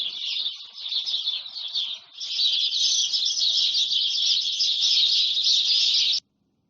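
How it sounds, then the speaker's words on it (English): Birds sing in a morning setting, a dense high chirping chorus that runs continuously and fairly loud, briefly dipping before resuming and then cutting off abruptly. "The birds were singing to me on my birthday."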